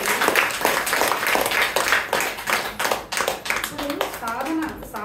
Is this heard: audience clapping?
yes